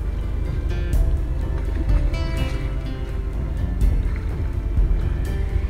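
A Ninh Chữ fishing boat on the water in Vietnam, with a steady wash of water and engine rumble, wind noise and occasional knocks and clatters, continuous throughout with no talking.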